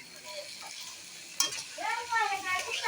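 Beef dropped into a pan of browned onions bursts into a sharp sizzle with a clatter of stirring, the hiss swelling and bubbling over a few seconds.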